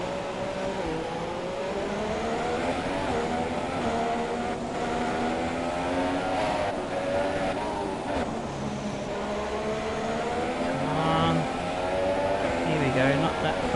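Formula 1 car engine from F1 2017, a Sauber at the Malaysian GP behind the safety car, droning loudly with rising and falling revs and gear shifts throughout, steady and close.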